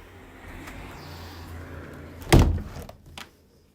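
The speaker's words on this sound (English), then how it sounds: "The windows in this bedroom are operational, as you can see, and I will just shut them" A bedroom window in a rented house being shut, a single solid thunk of the frame closing near the middle, preceded by faint sliding and handling noise, close and without talk.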